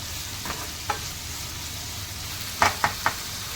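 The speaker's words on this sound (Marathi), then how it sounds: "आता हे आपण व्यवस्थित परतून घेतले" Green masala paste sautéing in oil for prawn curry, a faint low sizzle with a few soft spoon taps and scrapes toward the end.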